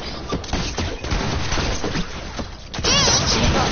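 Video game shooting: a dense crackle of rapid shots mixed with thuds and mechanical clatter, steady and fairly loud for a few seconds.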